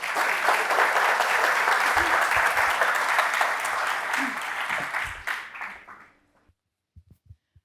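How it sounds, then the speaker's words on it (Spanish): Loud, sustained applause from an audience at an art lecture at a modern art museum that fades out toward the end, followed by a few faint knocks in near silence. "Un aplauso para Daniela, por favor"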